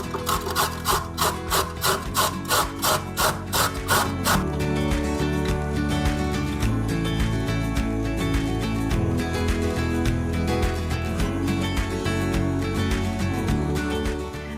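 Steady rhythmic rasping of a carrot being grated on a coarse grater, quick repeated strokes at first, then a denser continuous scraping, close up with no talking.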